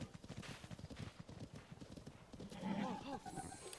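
Horse hooves clip-clop at a steady trotting rhythm in Zelda: Tears of the Kingdom, with a short whinny near the end, all faint under a person talking.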